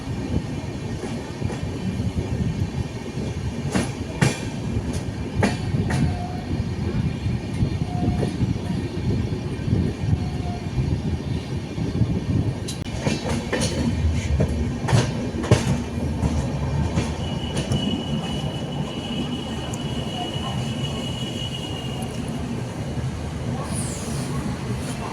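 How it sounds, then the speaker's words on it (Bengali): The Amritsar Mail passenger train slowly pulls away and runs on, a steady rumble of rolling wagons with scattered clanks, clicks and brief squeals, continuous and fairly close throughout. "এখন ট্রেন এখন আস্তে আস্তে করে ছেড়েছে"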